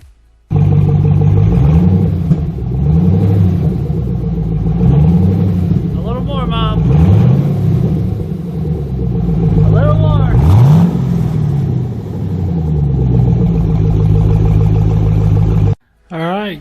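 A Camaro SS V8 running open headers roars up close in repeated throttle blips. Deep, rough revs rise and fall over a loud lumpy idle, and two sharper high revs break out before the engine cuts off near the end.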